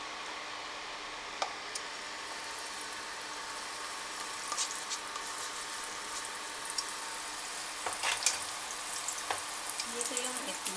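Egg frying in butter in a pan, a steady soft sizzle running throughout with faint scattered clicks and light clatter of cooking, no talking.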